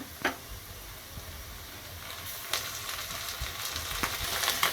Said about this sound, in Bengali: আদা রসুনের কাঁচা গন্ধ যাওয়ার আগ পর্যন্ত ভেজে নিতে হবে